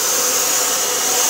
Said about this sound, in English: this is how I have to vacuum, because like I said, the vacuum just sits there and I vacuum like this